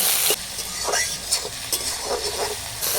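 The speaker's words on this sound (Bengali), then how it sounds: "সব কিছু ভালো করে ভেজে নেব" Tomato, chopped onion and green chillies fry in oil while a spatula stirs them, with close, bright scrapes and bursts of sizzle over a continuous hiss.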